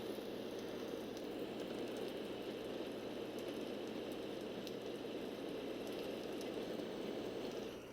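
Steady rain white noise from a portable wireless Hatch sound machine, a constant, even hiss of falling drops with no breaks, quiet and unchanging throughout.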